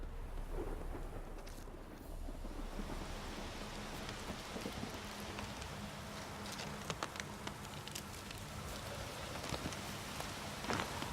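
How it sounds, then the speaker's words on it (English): A thunderstorm in The Witcher 3 brings steady rain pattering on surfaces, low thunder rumbling underneath and scattered louder drops, all soft and constant with no speech. "The storm."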